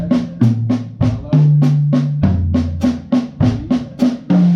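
Drum set toms played in a steady sequence of sharp, resonant hits at varying pitches, about three strokes per second, loud and close with no talk over them.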